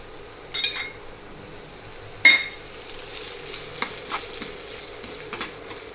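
Chopped chillies and tomatoes frying in oil for a Gujarati leftover-roti snack, a soft steady sizzle broken by a few sharp metallic clinks and stirring scrapes.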